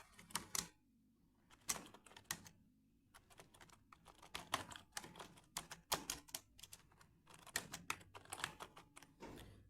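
Rapid, irregular typing on a computer keyboard while entering a purchase voucher narration in Tally accounting software, with close, crisp key clicks in bursts separated by brief pauses and no talk.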